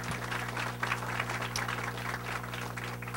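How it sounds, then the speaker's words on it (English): Moderate applause from attendees at a KTRH radio town hall meeting, a soft, continuous patter of clapping over a steady electrical hum in the room. "A nice round of applause, please,"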